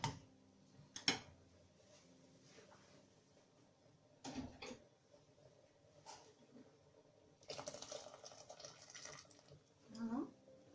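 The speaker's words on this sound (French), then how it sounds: "il manque un peu d'eau, je vais ajouter un peu." Water poured into a pot of Moroccan harira soup with vermicelli, a rushing splash near the end after scattered kitchen clinks and knocks.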